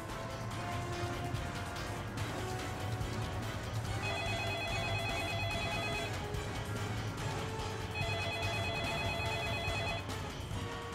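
A telephone rings in repeated electronic bursts, steady and fairly loud, over a constant background hum with no talking.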